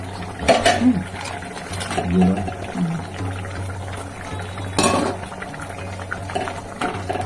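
Shrimp simmering in a coriander curry in a pot, with a soft bubbling boil broken by occasional clinks of a utensil against the pan, close up and moderately loud.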